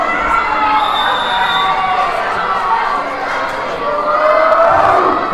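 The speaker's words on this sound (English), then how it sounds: "Crowd back in this one again." A school volleyball crowd in a gym, girls' match, keeps up loud, continuous cheering and shouting throughout, dense and steady with swells of excited voices.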